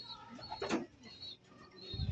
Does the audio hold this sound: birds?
yes